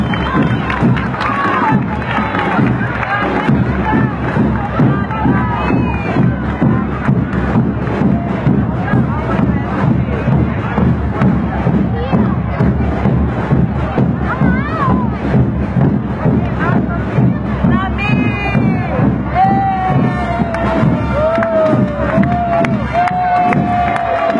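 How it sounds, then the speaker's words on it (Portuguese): A large outdoor crowd cheers and shouts steadily and loudly for the Charles Maia school marching band of Colégio Estadual de São Fidélis, with whistles and children's voices and someone talking over the roar. "Vamos a torcida bem forte"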